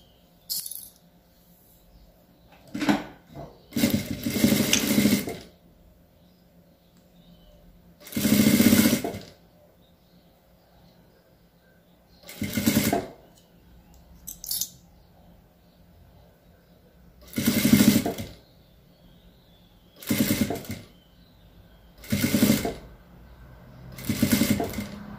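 A sewing machine stitches a children's bootie in several short bursts of whirring, separated by quiet pauses, close and fairly loud.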